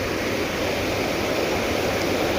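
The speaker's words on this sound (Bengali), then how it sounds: "এই যে ঝর্ণার আওয়াজ তো শুনতেই পাচ্ছ তোমরা," A waterfall rushes nearby in a steady, loud, unbroken roar of broadband water noise that fills the whole short stretch, with no voices.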